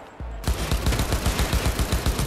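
Gunfire in the video game Cyberpunk 2077 comes as a rapid automatic burst after a brief pause, about a dozen loud, punchy shots in an even rhythm, close and with no talking.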